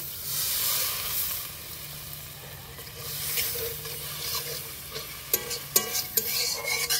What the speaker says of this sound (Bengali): এবারে মশলার যে জলটা রেখেছিলাম মশলার জলটা একটু দিয়ে দিব।